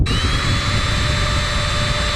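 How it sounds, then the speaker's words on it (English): A power drill bores into cured epoxy on a boat, running as a loud, continuous high whir for the whole stretch, with no talking over it. "It's been about 24 hours, and I need to drill the hole."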